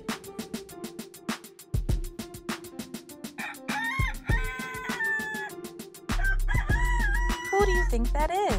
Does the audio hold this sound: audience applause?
no